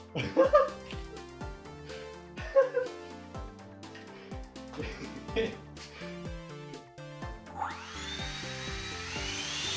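A homemade RC jet engine runs at quarter throttle as a steady, close whine with rising tonal sweeps and a strong high-pitched hiss near the end, while someone talks over it.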